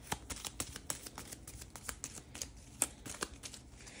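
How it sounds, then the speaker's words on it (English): Board game cards from a Game of Thrones board game being shuffled, with the deck mixed into the discard pile, giving a run of quick, close, crisp riffling snaps and soft rustles. "So we can shuffle the deck with the discard pile."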